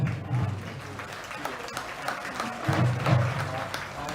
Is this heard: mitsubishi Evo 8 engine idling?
no